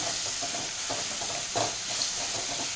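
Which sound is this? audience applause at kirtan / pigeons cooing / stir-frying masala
stir-frying masala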